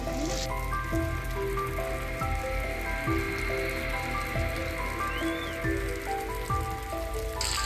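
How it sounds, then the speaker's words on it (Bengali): Steady rain falls continuously, a dense, even hiss of drops on surfaces that holds at a constant level throughout, with faint sustained tones running underneath. "বৃষ্টির কথা তো আর বলে লাভ নেই বৃষ্টি নাজেহাল অবস্থা"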